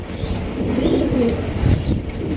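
Large exhibition pigeons coo at close range at a pigeon sale, a short burst of low, rolling calls heard alone without talk.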